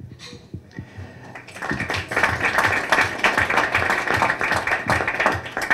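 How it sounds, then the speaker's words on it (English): Applause from an audience at a community forum on counterterrorism: a dense, steady patter of many hands clapping that swells in after a quiet start and carries on loudly to the end. "And we applaud you."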